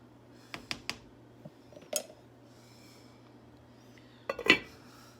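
A lid clinks down onto a metal pot of simmering vegetarian chili mac, with a few sharp, close metallic taps spread across a quiet kitchen and a louder clatter near the end.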